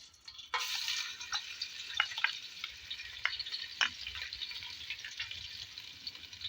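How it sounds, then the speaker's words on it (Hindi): Ginger-garlic paste sizzles steadily in hot oil over medium heat as the base for a mixed dal, with a constant close crackle and occasional sharper spatters from stirring, no voices. "2 मिनट हमने अदरक लहसुन के पेस्ट को भून लिया।"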